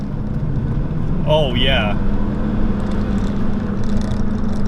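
A boosted Saab turbo car accelerates hard from second gear, giving a steady, loud engine drone throughout under a brief spoken exclamation.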